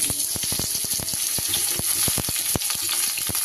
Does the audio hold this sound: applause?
no